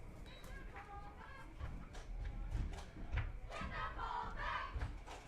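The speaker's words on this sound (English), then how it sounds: "That one's a good cheer." A crowd at a JV high school football game, Wolves vs. Ravens, cheers from a distance in ragged, swelling bursts, with scattered shouts and voices mixed in.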